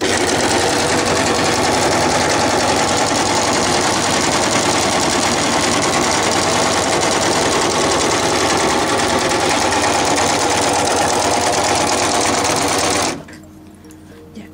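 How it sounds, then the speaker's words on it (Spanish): A Janome 8002D overlock serger stitching fabric at high speed, a loud, dense, rapid mechanical whirring and clatter running steadily for about thirteen seconds before stopping abruptly into near silence, close up with no voices. "Este es el overlock común, ¿ya? La costura que hace."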